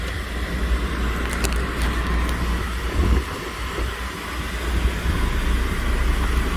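Steady engine and road noise inside a 2009 VW Eos 2.0T turbo cabriolet while driving, a continuous low rumble with tire hiss and a few faint rattles.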